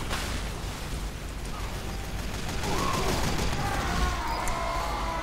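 Dense, continuous gunfire rattles through a video game match, a thick barrage of overlapping shots that stays loud and unbroken, swelling slightly toward the end with no clear gaps.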